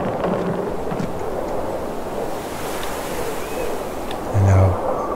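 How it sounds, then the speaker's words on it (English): Steady gusting wind roars high up in the video game The Shore, mixed with a surf-like wash and low rumbles, continuous throughout with a brief heavier thump near the end. "It's pretty windy up here."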